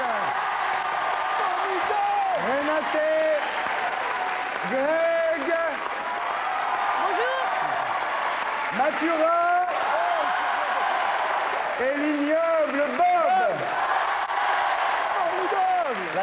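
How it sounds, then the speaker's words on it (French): A television studio audience applauds the Wallace family with steady, continuous clapping, while excited voices and calls ring out repeatedly over the applause. "applaudissements pour la famille Wallace"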